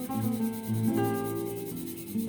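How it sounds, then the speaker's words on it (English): A workpiece edge is rubbed back and forth on a sanding block to flatten it, giving a steady, close, continuous scratchy rasp with slight strokes and no talking. "put it on a sanding block like this"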